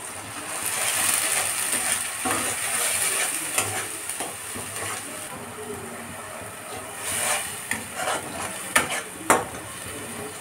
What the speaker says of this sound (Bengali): জিরার গুঁড়া দিয়ে দেব, লবণ, হলুদ স্বাদ মতো, দিয়ে ভালো করে কষে নেব।